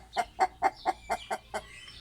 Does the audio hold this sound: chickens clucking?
yes